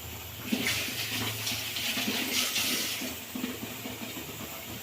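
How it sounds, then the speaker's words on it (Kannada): Water splashes and runs steadily into a pan of oil-fried eggplant gravy for several seconds, a continuous watery rush with faint hiss, no voices. "ನೀರು ಹಾಕ್ಕೊಳ್ತಾ ನಾನು"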